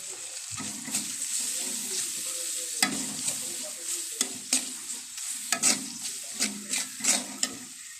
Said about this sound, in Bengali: মরিচটাকে আমি একটু সুন্দর করে ভেজে নেব